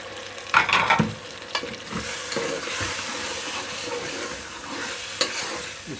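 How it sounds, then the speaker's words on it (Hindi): Chicken pieces fry in a pan for a chicken and cauliflower curry, giving a continuous close sizzle broken by stirring scrapes and clinks, loudest near the start. No one speaks. "इसको भी भून लेते हैं चिकन को भी।"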